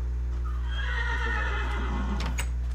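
A horse from the Mo Creatures mod in Minecraft lets out a single long, loud whinny that rises and trails off, over a steady low background hum with a faint click at the end.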